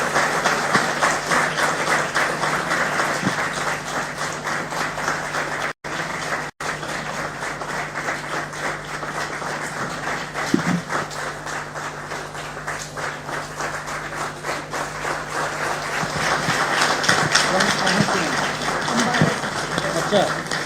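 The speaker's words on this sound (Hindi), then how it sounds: "आपकी तालियों की गड़गड़ाहट बिल्कुल रुकनी नहीं चाहिए।" A crowd at a ceremony honouring HPSC rank holders in Haryana keeps up continuous applause that runs throughout. Voices talk over the clapping, which grows a little louder toward the end.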